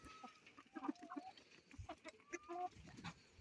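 Several chickens cluck softly and irregularly close by, with short overlapping calls and a few higher squawks on a quiet background.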